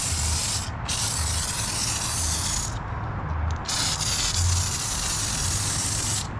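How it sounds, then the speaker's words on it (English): Pump sprayer misting gentle wheel cleaner onto a car wheel, a steady broad hiss in long bursts with brief pauses between sprays, close and fairly loud, no talking. "What I'm doing is I'm using the pump sprayer,"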